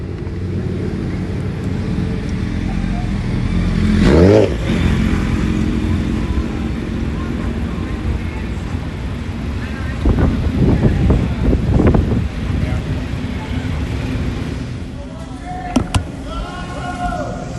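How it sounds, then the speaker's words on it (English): Motorcycles rumble past at a distance in Denver, Colorado, on a summer night, their engines rising and fading over steady wind noise, with a few sharp clicks near the end. "It sounds like there's some motorcycle dudes up here"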